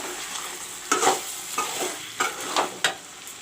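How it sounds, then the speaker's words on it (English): Chicken fries with masala in a pan for a pea-filled chicken curry, a soft sizzle broken by several close stirring scrapes at an uneven pace. "you can see the chicken frying with the masala."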